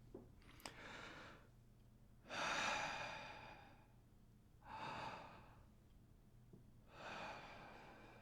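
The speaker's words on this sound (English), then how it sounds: "It seems logical to start with some deep breathing." Slow, deep breaths drawn and released by a person, four long airy swells spaced a couple of seconds apart, close and quiet with no talking.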